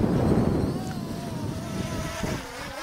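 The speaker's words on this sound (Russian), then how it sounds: "Сегодня у нас ветрено." Gusty wind buffets the microphone in low rumbling bursts, with a faint whining hum from a Syma W1 quadcopter's brushless motors running underneath.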